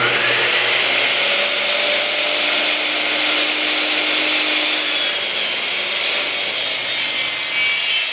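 A Bosch GCM12SD glide mitre saw trims a thin shaving off a wooden board, its motor whining loudly and steadily as the blade rubs through the wood, with a brighter, harsher edge near the end of the cut.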